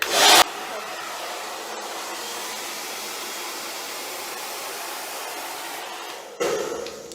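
A handheld hair dryer on a hot setting blows steadily and loudly as it dries long hair in a salon, a continuous airy roar with louder bursts as it is moved near the start and end.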